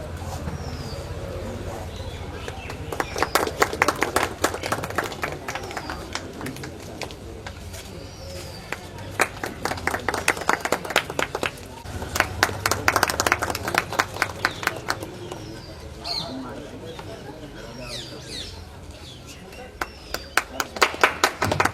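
A gathered audience at a village library's Brahmarpan festival claps to welcome a guest, with bursts of applause swelling and fading in waves across the hall. A voice speaks through the gaps, and birds chirp faintly in the background.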